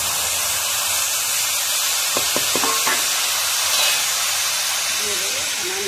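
Fish frying in oil with mustard and salt gives off a loud, steady hiss and sizzle, with a few brief crackles partway through.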